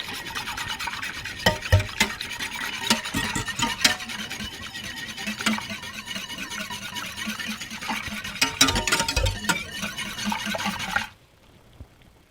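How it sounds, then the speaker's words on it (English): A whisk scrapes and stirs yogurt into a pot of milk, a steady rasping, swishing texture with a few sharper knocks against the pot, running close and continuous for about eleven seconds before stopping abruptly. "add it to my pot of milk. And give that a good whisk"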